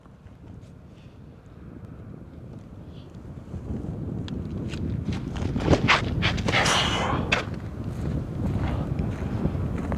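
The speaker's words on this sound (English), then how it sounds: "we've got a ripping headwind" Strong headwind on an outdoor disc golf course buffeting the microphone, a steady roar that builds after a few seconds into loud gusting rumble and flutter, with faint movement sounds underneath.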